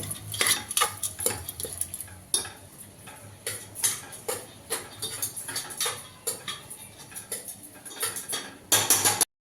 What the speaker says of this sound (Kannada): ಒಗ್ಗರಣೆ ಜೊತೆಲಿ ಈ ಕಾಳನ್ನ ಚೆನ್ನಾಗಿ ಮಿಕ್ಸ್ ಮಾಡ್ತಾ ಇದ್ದೀನಿ